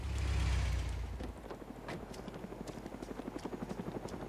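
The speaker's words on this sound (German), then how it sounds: "Das ist ein Bot-Heli." A helicopter's rotor chops in rapid rhythmic pulses over a low engine rumble in the video game DayZ Origins, starting with a heavy roar that eases into steady thumping.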